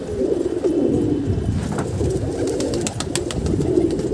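Soft, low pigeon coos repeat several times close by, with faint rustling and background noise.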